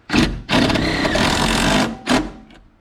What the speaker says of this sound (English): a self-tapping screw right there, a 5/16 socket, and we're just gonna impact this in